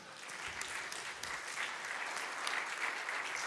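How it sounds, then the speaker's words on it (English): An audience at a candidate forum applauding, a dense, continuous clapping from many hands that holds steady and fairly loud throughout, without voices above it. "Can we give them another round of applause?"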